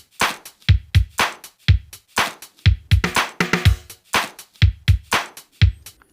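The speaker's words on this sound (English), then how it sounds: "So I mainly layered with a bunch of percussion like claps." Drum machine beat layered with handclaps and extra percussion, a steady punchy loop of kicks and bright clap hits repeating in a tight rhythm, loud and upfront with no voices.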